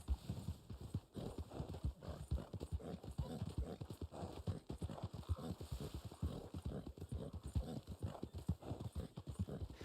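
Horse hooves clip-clop in the Red Dead Online video game, a fast, steady rhythm of hoof beats at a gallop, continuous throughout with faint background hiss and no talk.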